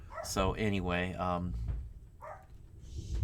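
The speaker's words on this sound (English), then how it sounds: "So you can hear the thunder there, and my dog's going off." A dog barks and yips at home during a thunderstorm, a few sharp barks mixed in with a person talking close by.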